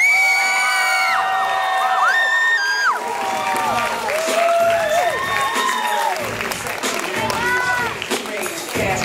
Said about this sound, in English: I want y'all to clap it up just as loud as you did for the last team for Newark High School.